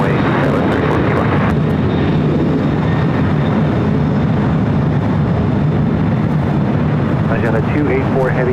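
Heavy FedEx jet rolling down runway 25 right at LAX, a loud, continuous broadband engine roar that fills the whole stretch, with radio voices talking over it.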